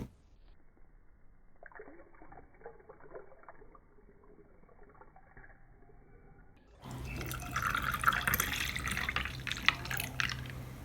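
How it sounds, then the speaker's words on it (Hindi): Milk poured into a glass for a milkshake: a faint trickling, dripping pour at first, then a louder, fuller splashing stream filling the glass. "अब हम इसमें दूध शामिल करेंगे।"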